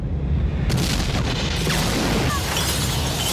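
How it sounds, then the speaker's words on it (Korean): A huge volcanic eruption blasts out in a film scene as lava bursts up between city buildings, a dense roaring rumble with crashing debris that fills the whole stretch, loud and continuous. "화산이 폭발해버리며 용암이 솟아올랐고"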